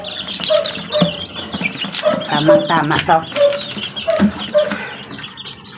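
Asil gold chickens cluck and crow in short bursts before feeding, fairly close, with someone talking over them and a dog faintly in the mix.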